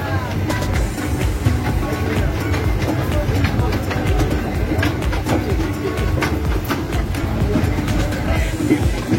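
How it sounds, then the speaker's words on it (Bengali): A toy train ride at Nicco Park amusement park rumbling along with steady clattering over the track, loud and continuous, with faint voices and birds mixed in. "এবার আমরা চড়বো টয় ট্রেনে।"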